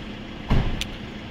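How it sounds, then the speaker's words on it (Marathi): Car pulling up for a wedding-day arrival: a brief low thump and swell near the middle, then a short bright click, over steady outdoor background noise with no talk. "बघत असाल अनिकेत दादाची गाडी आलेलीच आहे लगेचच"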